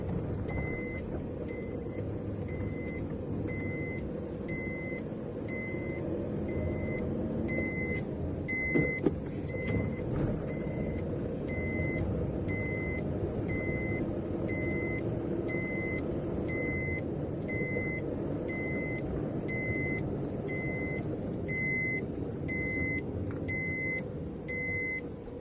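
Cabin of a Maruti Alto VXi on the move: a steady, moderate road and engine hum fills the space throughout, with a repeating electronic beep chiming at regular intervals above it and no talking.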